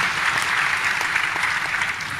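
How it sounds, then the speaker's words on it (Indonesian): Audience applause at the Satu Indonesia Awards 2025 inspirational talk event in Manado, a close, full burst of many hands clapping steadily for the whole short stretch. "Beri tepuk tangan dulu dong."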